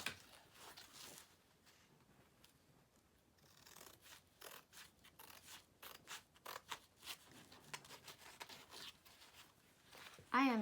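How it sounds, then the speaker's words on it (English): Scissors snip through canvas along a marked line, giving a series of soft, close, dry cutting crunches in an irregular rhythm, with a few quiet pauses between cuts. "So make sure you cut your mark off."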